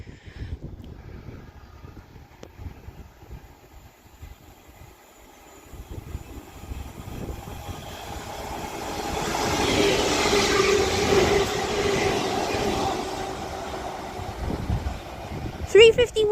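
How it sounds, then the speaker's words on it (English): London Northwestern Railway Class 350 electric train passing through West Allerton on the Liverpool branch of the West Coast Main Line, a rising rumble and rush that peaks midway and then fades, with a voice talking over the quieter start. "it's a singular Class 350 for London North Western Railway now"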